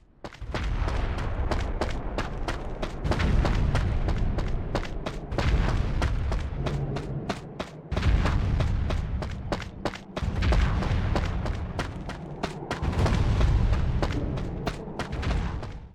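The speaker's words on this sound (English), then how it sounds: "You just get the ASMR of this thing stomping around" Heavy booming footsteps of a giant Colossus in Shadow of the Colossus land in a loud, repeated series of deep thuds with rumbling echoes between them.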